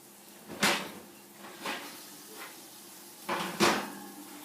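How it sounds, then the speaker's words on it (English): Oven door opened in a home kitchen to take out a tray of baked bread cubes for apple bread pudding, giving a few separate clunks and thuds spread over several seconds, moderately close with no talk. "let's take our bread out the oven"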